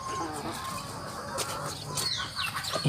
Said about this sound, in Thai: สำหรับ ไก่ไข่ของเรานะครับ